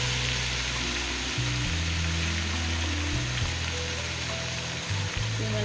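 Tomato, onion and chili paste sizzling in a pan over fried ginger, a steady, close frying crackle that never lets up, laid over a low, sustained musical drone with shifting tones.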